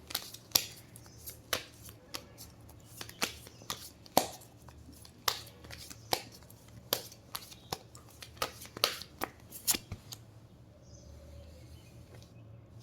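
Tarot cards are shuffled and pulled from the deck, giving soft irregular snaps and flicks close by over several seconds, then trailing into quiet.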